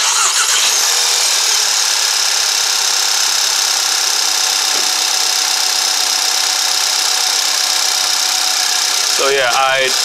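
A VW CC Sport, the car with a P0300 misfire fault, cranks and starts, then holds a loud, steady idle with a strong high-pitched whine running throughout, ending in a brief burst of noise.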